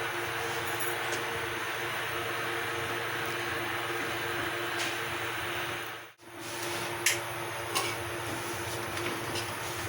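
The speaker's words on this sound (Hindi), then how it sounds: "तो कूलर की इतनी आवाज़ आ रही है ना।" An air cooler runs in a home kitchen, giving a steady, loud broadband whir that fills the whole stretch with only a brief dip partway through and a few faint clicks after.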